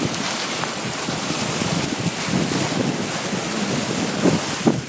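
A car crossing a rushing river, with a loud continuous wash of churning water against the vehicle and wind buffeting, a dense steady roar with no speech.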